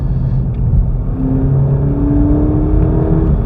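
2022 Volkswagen Polo GTI accelerating on a private road, a steady engine drone with rising tones as it pulls through the revs, close and fairly loud, no talking.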